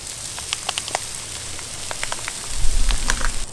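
Shelf-stable cauliflower rice frying on a griddle makes a steady crackling sizzle with scattered pops, swelling with a low rumble near the end.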